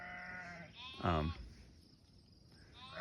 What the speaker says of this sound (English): As the sheep sitting by in the background, just looking for their babies.